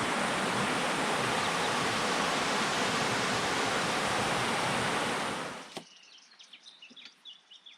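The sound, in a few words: river flowing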